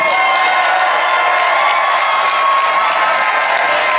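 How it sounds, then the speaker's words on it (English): Concert audience clapping and cheering on opening night, a dense, steady roar of applause with scattered whoops holding at full level throughout, with no pauses. "keep clapping"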